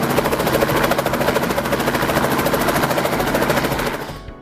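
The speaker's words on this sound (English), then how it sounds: "generating enough lift to get the chopper off the ground and rising." Helicopter lifting off with its rotor blades chopping in a loud, rapid, steady pulse close by, the thudding beat filling the air before cutting off abruptly near the end.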